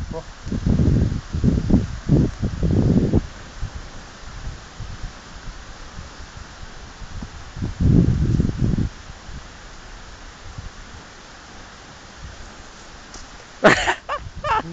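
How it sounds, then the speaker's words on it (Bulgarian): Strong wind blows outdoors around an open fire, a continuous rough rush that runs under several bursts of nearby speech. "Много вятър има, ще изгаснат."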